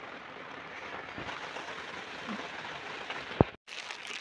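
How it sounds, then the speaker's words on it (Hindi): Steady rain falls outside in a mountain meadow setting, a continuous close hiss of drops on surfaces, ending with a single sharp knock and a brief cut before the downpour resumes. "ये देख लीजिए पूरी तरीके से बारिश हो रही है"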